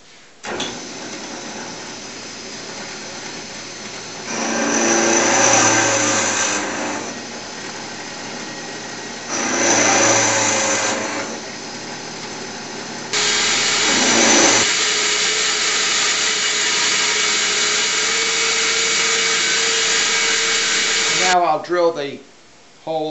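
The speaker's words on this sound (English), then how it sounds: "Drill the holes for the plugs to go into and screw heads, followed by the shank hole." A power drill bores holes for wooden plugs and screw heads in the carcase of a navy sea chest. Two short whining bursts are followed by a long sustained run, close to the microphone.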